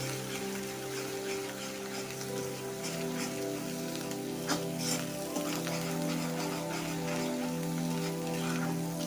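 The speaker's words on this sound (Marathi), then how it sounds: "ग्रेव्ही एकदम तेल सुटेपर्यंत बारीक गॅसवर जास्त वेळ अशी भाजून घ्यायची आहे" Masala gravy roasts in oil on a low gas flame with a soft, even crackling sizzle, faint and continuous under a steady background hum.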